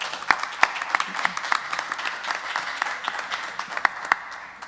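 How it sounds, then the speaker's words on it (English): An audience claps at an evening event of nigunim and inspiration, a moderate round of applause with a few sharp, close individual claps popping out over the wash of hands. "you should all give yourselves a very big round of applause."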